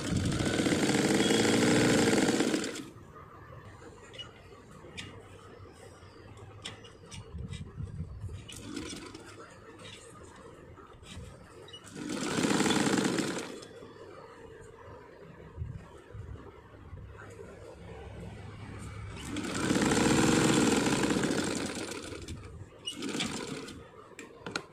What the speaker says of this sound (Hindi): पहले बैक साइड की तरफ स्टिच कर लें, उसके बाद में आगे की सिलाई कर लेंगे।